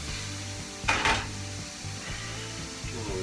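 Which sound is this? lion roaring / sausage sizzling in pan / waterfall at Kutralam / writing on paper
sausage sizzling in pan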